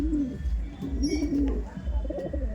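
Kaldom pigeons cooing in soft, repeated low coos, close by, with a steady low background hum and brief faint chirps.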